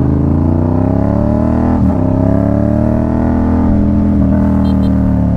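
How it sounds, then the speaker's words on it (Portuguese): Motorcycle engine running and being coaxed to start at a rough dirt-bike race start, a loud steady motor drone with harmonic tones throughout and a brief dip near the middle, close to the microphone. "O Diogo tá fazendo a moto pegar"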